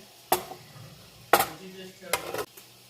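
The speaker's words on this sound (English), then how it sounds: "the onions is in the pot with the bacon grease" Chopped onion being stirred in a pot with bacon grease over medium-high heat, three short scraping stir sounds with a faint sizzle between them.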